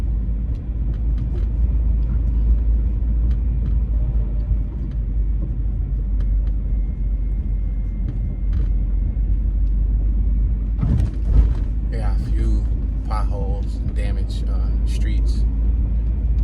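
A car rolls down a residential block of Blay Street in Philadelphia's Castor Gardens neighborhood in winter, its steady low road rumble continuous throughout, with a few brief brighter noises near the end.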